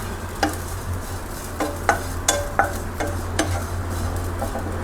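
Grated coconut dry-roasts in a pan on a gas stove, a steady low hum under repeated scraping strokes of a spatula against the metal, close and without talk.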